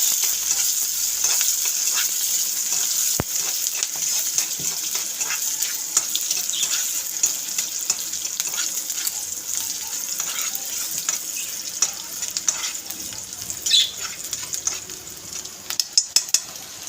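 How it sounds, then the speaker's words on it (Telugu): Onions, along with curry leaves, dropped into hot oil sizzle and fry continuously, a bright crackling hiss with scattered pops and a few clinks of a utensil, close by with no talk. "చూడండి ఫాస్ట్గా నేను ఆయిల్లో ఇది వేస్తున్నాను. ఆనియన్స్ వేస్తున్నాను."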